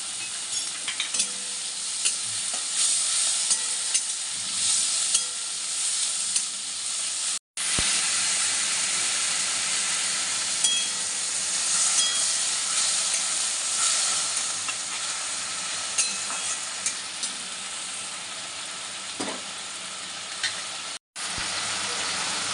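Ginger-garlic paste fries in a pan for a radish and mourala fish dish, giving a steady close sizzle and hiss with the occasional scrape of stirring. It runs continuously, broken only by two brief cuts.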